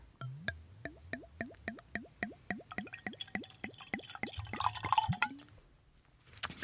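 Rosé wine glugs out of a bottle in a rapid series of rising, bubbly gurgles that speed up as it flows, then taper off into a brief splash.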